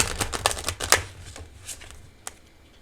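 Crisp riffling of a card deck being shuffled, a quick burst of rapid flutters in the first second, then a few softer taps and one last snap.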